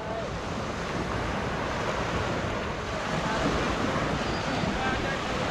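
Surf washing onto An Bang Beach in Hoi An, Vietnam, a steady, fairly loud broadband rush with wind buffeting the microphone and no pauses throughout.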